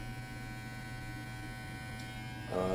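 A Kemei hair trimmer runs with a steady electric hum close up, its tone shifting and growing slightly louder near the end.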